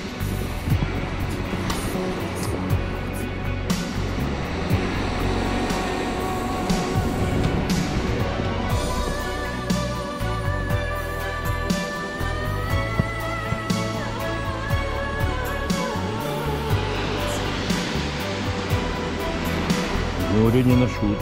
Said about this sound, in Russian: Море не на шуточку разволновалось.